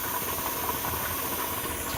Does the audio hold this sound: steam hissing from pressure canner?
yes